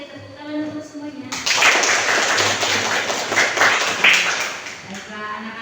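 Children clap together in a classroom, a sudden burst of many small hands that starts abruptly and continues steadily for several seconds, with a teacher's voice heard before and after.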